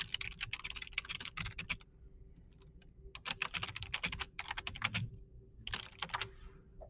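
Someone types a name on a computer keyboard, quick bursts of close, crisp key clicks broken by short pauses, quiet and with no talking.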